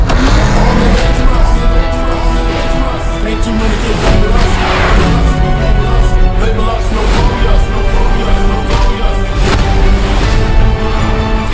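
Cars racing with engines roaring and revving in a loud, dense movie-trailer mix, a continuous wall of engine noise with swells and bursts throughout.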